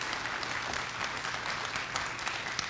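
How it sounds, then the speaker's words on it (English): Audience applause after a speaker series talk, a soft, even patter of clapping hands at a modest distance, steady throughout with no voices. "If we could get just a quick round of applause"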